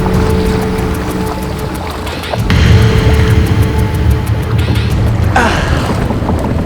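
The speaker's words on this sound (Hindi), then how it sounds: "ये कोई मोटर बोट की आवाज है।" A motor boat engine drones loudly and close, a steady mechanical rumble with wind and water wash that swells about two seconds in and holds strong to the end.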